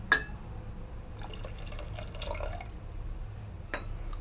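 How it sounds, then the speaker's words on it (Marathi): Mutton stock poured into a pot of Kolhapuri white rassa, a faint liquid trickle and light splashes with a few small clinks, quiet and close. "वरून आपण मटणाचा स्टॉक घालणार आहे"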